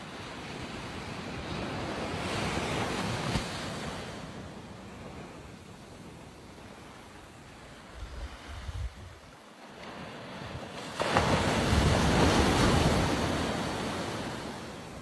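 Ocean waves wash onto a beach in broad surging rushes, steady with a fuller swell near the end, mixed with wind buffeting the microphone; no voices.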